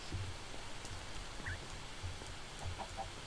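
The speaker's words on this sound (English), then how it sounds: "Hi, chickens!" Chickens in Minecraft clucking softly in short, scattered bursts, low and fairly faint over a steady background.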